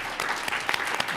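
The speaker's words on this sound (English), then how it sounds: "Let's give them another round of applause." Audience at a conference panel applauds, a dense burst of clapping close and steady for about a second.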